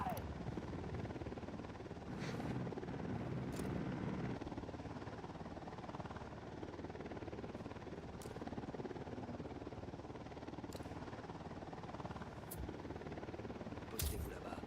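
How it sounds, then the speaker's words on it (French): A patrol helicopter from the unit flies over in Ghost Recon Wildlands, a low steady rotor drone lasting throughout with a few sharp clicks and bursts on top. "Hélico de l'unidad en patrouille."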